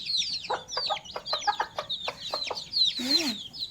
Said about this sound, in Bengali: দেখেন কত সুন্দর করে খেলছে মুরগির বাচ্চাগুলো।